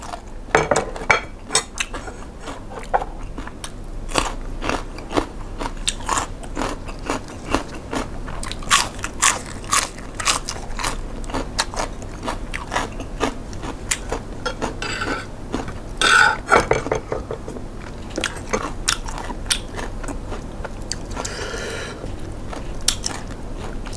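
Someone eats a Thai crab salad of small crabs with peanuts, giving close, repeated crisp crunches and bites in an uneven rhythm, with no talking.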